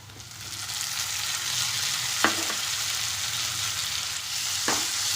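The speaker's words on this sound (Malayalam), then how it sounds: "ആ ടൊമാറ്റോ നന്നായിട്ട് നമുക്കൊന്ന് ഇളക്കി യോജിപ്പിച്ച് കൊടുക്കാം" Chopped tomato frying in a pan for aloo palak, a steady sizzle throughout with two sharp scrapes of a stirring spoon, close and fairly loud, no talking.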